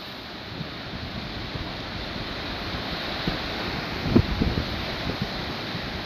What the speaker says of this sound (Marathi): लाटा पण तशाच येत आहेत